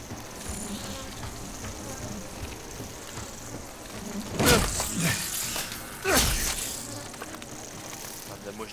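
Flies buzz steadily in the background of the Resident Evil 7 video game. Two louder buzzing swells pass close by midway through, with faint ambient noise underneath.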